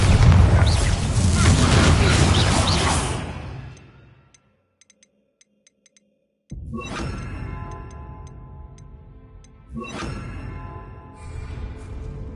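Explosive Bombarda spell blasts hitting barricades in the Hogwarts video game: a dense, loud rumble fades to near silence, then two sudden booming bursts ring out a few seconds apart, each decaying into a crackling tail.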